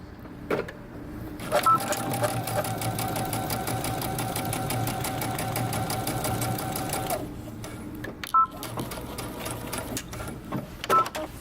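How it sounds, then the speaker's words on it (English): A sewing machine top-stitches a jeans waistband, running in one steady rapid stitching stretch for several seconds before breaking into a few short stop-start bursts, close and clear. "we're going to turn this under and top stitch our waistband"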